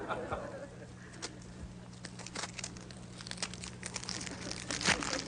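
Styrofoam and tape being handled and wrapped around an object, with crinkling, squeaks and tearing in quiet bursts close by, under occasional talk.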